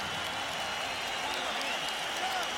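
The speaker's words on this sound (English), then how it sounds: "a round of applause for 2 warriors who gave it everything they had in this ring." A boxing arena crowd applauds and cheers after the final bout of the Gatti–Ward trilogy, a continuous broad roar of clapping and crowd noise heard at a distance.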